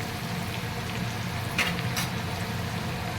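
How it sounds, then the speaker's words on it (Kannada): Crushed garlic and curry leaves fry in hot oil in a pan, giving a steady, dense sizzle with small crackles and no voices. "ಇದು ಚೆನ್ನಾಗಿ ಬೆಳ್ಳುಳ್ಳಿ ಹಸಿ ವಾಸನೆ ಹೋಗೋ ತನಕ ಫ್ರೈ ಮಾಡ್ಕೋಬೇಕು"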